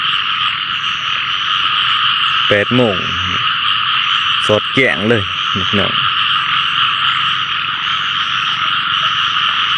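Frogs croak in short rapid bursts after a night of heavy rain over flooded rice paddies, the calls rising above a steady insect drone while someone speaks briefly in Thai.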